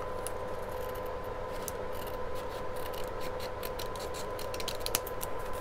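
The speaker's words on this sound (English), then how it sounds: "I'm just going to get my scissors and take a very thin sliver" Scissors snip a very thin sliver off the top of a reused junk-mail paper envelope, giving a rapid run of small crisp cuts and paper scratches close to the microphone over a faint steady hum.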